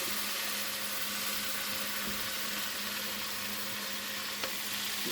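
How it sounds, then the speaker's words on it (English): Kale going into a hot pot of oil and butter gives a steady, fairly quiet sizzle and crackle that runs evenly throughout, with a faint clink near the end. "So since it's hot now, what I'll do is I'll add the kale to the pot."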